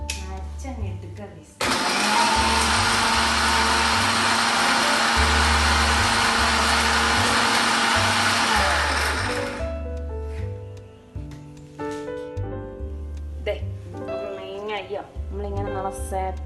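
A mixer grinder whirs loudly for about eight seconds while it grinds a gooseberry masala paste for a sardine curry, then cuts off. A voice talks over it and keeps talking once the motor stops.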